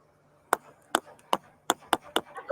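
Half-brick headers in a chimney are tapped one after another, giving about nine sharp, hollow knocks at an uneven, quickening pace, close and clear with no talk.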